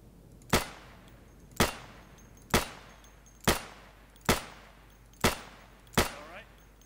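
Seven sharp gunshots fire one at a time at an even pace, about one a second, while shooting at a target in the video game Insurgency, each crack loud and close with a short tail.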